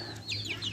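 A hen with two chicks in a free-range backyard chicken farm gives a brief run of soft clucks, quiet and close, with a few higher chirps woven in.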